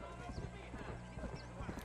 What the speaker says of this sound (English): Hold on, I ain't got my horse yet. He's coming.